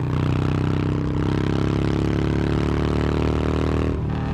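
A Harley-Davidson Forty-Eight V-twin motorcycle engine revs hard as the throttle opens, a loud, steady low throbbing drone that holds for about four seconds before briefly dropping off at the end.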